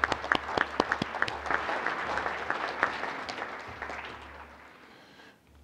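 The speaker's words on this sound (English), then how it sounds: "Another nice round of applause." Applause from the audience at a school board meeting, a burst of clapping that holds fairly steady with a few sharper individual claps near the start, then thins and fades out toward the end.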